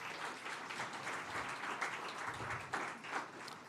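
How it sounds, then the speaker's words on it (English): Steady crowd applause, a dense wash of many hands clapping at a distance, fairly soft and continuous without talk. "Let's give them a round of applause as well."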